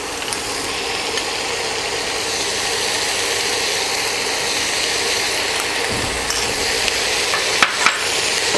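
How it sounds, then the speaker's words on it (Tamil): Chicken stir-fried over a full flame in a pan for American chopsuey, a loud continuous sizzle with the roar of the burner beneath and occasional scraping and tossing clicks near the end. "இப்போ நல்லா நான் அதை வந்து ஃப்ரை பண்ணியிருக்கேன்"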